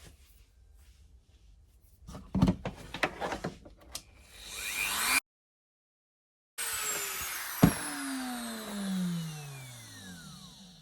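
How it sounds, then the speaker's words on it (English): A Dremel rotary tool sands along the back edge of a wooden case for a vintage Craftsman socket set, a high, whining buzz with gritty scraping that cuts out briefly, restarts and winds down in falling tones. "I'm just going to take the Dremel again and go along the back edge"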